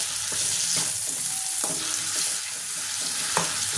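Onion, garlic, ginger and chilli paste frying in a pan for a Bengali prawn dhoka curry, a loud steady sizzle broken by several sharp scrapes of a spoon stirring.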